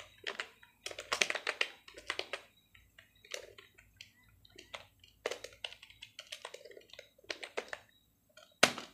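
Rapid typing on a computer keyboard during a stenography mock exam, with bursts of close, crisp keystrokes separated by short pauses and one sharp louder key press near the end.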